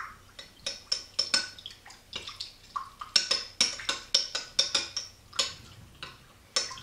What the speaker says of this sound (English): and stir it together.